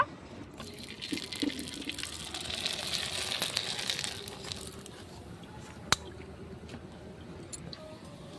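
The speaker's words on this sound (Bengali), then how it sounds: "এখন আমি পাঁপড়গুলো এক এক করে ভেজে নেব।" Sago papads frying one by one in hot oil on a stove, a soft continuous sizzle and bubbling that swells and then eases, with a single sharp click near the end, no talking.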